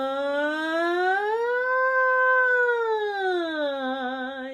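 A singing voice imitates a siren, gliding smoothly up from a low note to a high one and back down in one long, clear, sustained tone with no accompaniment.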